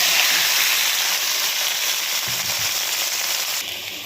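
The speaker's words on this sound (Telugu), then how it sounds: "తాలింపు అయితే పెట్టేశాను" A tempering for flat bean and tomato curry crackles and sizzles loudly in hot oil in a pan. The dense frying hiss is close, continuous and steady, with no talking.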